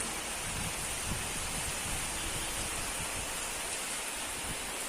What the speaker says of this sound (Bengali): দেখুন বাইরে মেঘের অবস্থা আর প্রচুর বৃষ্টি পড়ছে এদিকটায়